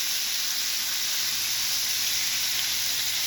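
Bacon sizzles and crackles on a Steelmade USA flat top griddle with a steady, bright, continuous hiss, close and alone.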